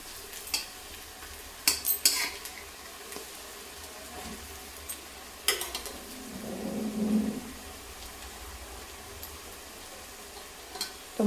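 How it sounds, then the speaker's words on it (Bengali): Red-lentil fritters fry in hot oil with a soft, low sizzle, broken by occasional sharp clinks and scrapes of a utensil against the pan and a brief louder bubbling swell midway. "তো বড়াগুলো একদিকটা ভালো করে ভাজা হয়ে গেছে, আরেক দিকটা একটু হালকা হালকা লাল করে ভেজে আমি বড়াগুলোকে তুলে নেব।"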